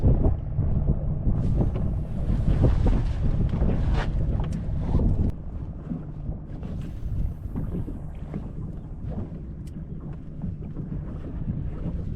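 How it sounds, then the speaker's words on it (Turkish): A boat engine drones close by on open water as the boat passes about 5 metres away, heavy wind buffeting the microphone throughout, the rumble shifting in strength as it passes. "yaklaşık 5 metre ilerimizden tekne geçti"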